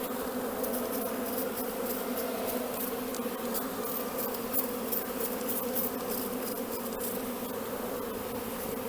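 Dense, steady swarm of honeybees buzzing around a nucleus hive box during swarming, a continuous loud drone with no talk.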